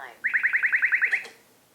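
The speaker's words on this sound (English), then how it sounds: "Powers on the detector, of course, and here's how the alerts work." A radar detector gives a rapid series of about ten chirping alert beeps in quick even rhythm, clear and fairly close, ending abruptly.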